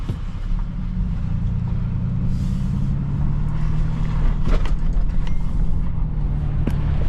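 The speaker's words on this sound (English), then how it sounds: "we got another truck pulling in the front" A truck rolls in out front on a freezing day, a constant low engine rumble close by with a brief hiss and a few sharp knocks over it.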